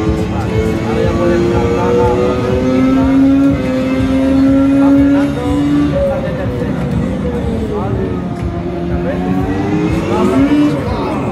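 A racing simulator video game car accelerates with a loud, continuous engine whine that rises and shifts pitch through the gears, while people talk over it in a busy room.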